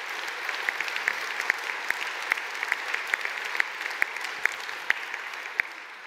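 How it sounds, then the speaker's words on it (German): Sustained audience applause at a political speech, a dense wash of many hands clapping at steady volume, with a few sharper claps standing out. "Applaus"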